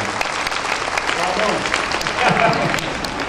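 An audience claps continuously for a few seconds, a dense, even patter of many hands with a voice faintly underneath.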